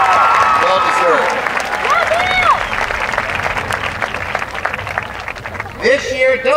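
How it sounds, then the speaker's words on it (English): Applause from the audience at a high school commencement honoring award recipients, a broad wash of clapping that fades gradually, with a voice speaking over it. "Let's give a big round of applause to Neil and all of our honorees this evening"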